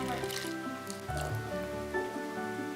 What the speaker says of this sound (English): now I'm going to pour in my water